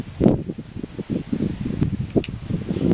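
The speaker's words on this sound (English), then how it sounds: "It's so damn windy out here." Strong outdoor wind buffets the microphone in uneven low gusts and rustles, loud and close throughout.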